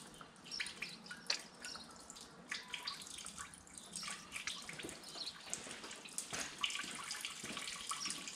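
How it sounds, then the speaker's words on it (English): Diesel fuel dribbling from the bleed screw on a Massey Ferguson 3505 tractor's fuel filter, a quiet, steady trickle of close drips and splashes running throughout with no talk. "because that fuel is flowing out, that means that the air is all out of the filter system"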